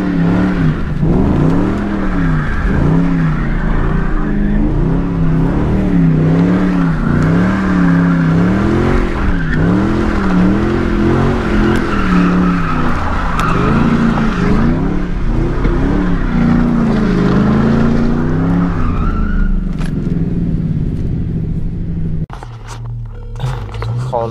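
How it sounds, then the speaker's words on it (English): A Ford Mustang 5.0 V8 revs hard and spins donuts, its engine note rising and falling in repeated surges with tire squeal, loud and close, then cutting off near the end. "I feel like doing donuts right here."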